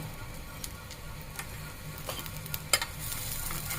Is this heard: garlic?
yes